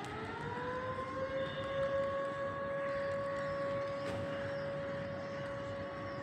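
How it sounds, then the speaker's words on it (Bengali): A siren sounds from a distant airport as a steady, unbroken wailing tone that holds for about six seconds over a low background rumble, with no talking. "এয়ারপোর্টের থেকে সাইরেন বাজছে"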